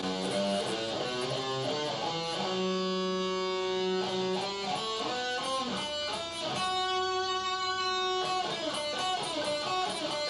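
A guitar plays the Locrian mode scale as a steady sequence of single ringing notes climbing across two octaves, with no voices.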